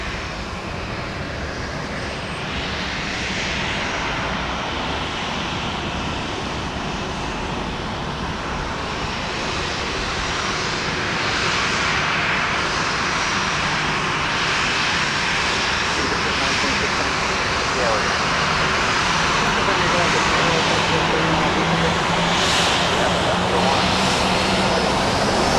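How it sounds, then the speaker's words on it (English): Boeing 737-700 passenger jet arriving at Dallas Love Field, a loud broad engine roar that swells gradually and holds for about twenty-five seconds, with a wide airport ambience around it. "This is Flight 3423 arriving from Lubbock, Texas, a 737-700."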